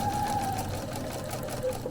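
A sewing machine runs steadily in a continuous whir while stitching down the center of tape on a quilt, with a thin tonal whine fading in and out; no talking.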